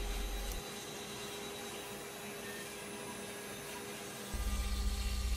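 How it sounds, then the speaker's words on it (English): CNC router cutting wood with a half inch end mill on a final outside profile pass, a steady high-pitched whine with a loud low spindle hum at the start and end. "The final outside shape is being cut with a half inch end mill, same bit we did the roughing pass with."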